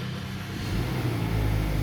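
A 2021 Mazda CX-30 engine starts and rumbles low and steady, rising slightly as it revs up, close by with no voices.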